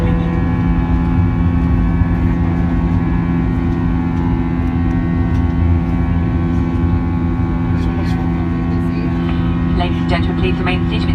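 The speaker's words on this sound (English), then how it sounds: "So finally took off, so bye-bye London Stansted Airport." Steady, loud engine drone fills the cabin of an Airbus A321 climbing after takeoff from London Stansted, with faint clicks and rustles near the end.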